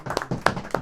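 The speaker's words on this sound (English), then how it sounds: "I just want to clap it up for everybody who's in the building right now." An audience at a documentary screening claps, with a few loud, close hand claps in quick succession.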